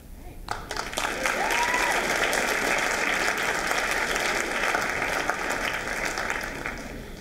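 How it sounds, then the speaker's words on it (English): An audience at a school writers' event applauds student writers, a steady, dense round of clapping that carries on alone for several seconds. "One more round of applause for our writers."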